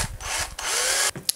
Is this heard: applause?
no